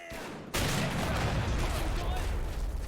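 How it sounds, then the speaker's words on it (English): Dense battle din from Men of War: Assault, with gunfire, machine guns and mortar fire raining down during a 1942 Dieppe raid assault, erupting loudly after a brief quieter lead-in and staying thick and continuous. "Constant mortar fire, constant sniper fire, constant machine guns are raining down on all these advancing troops."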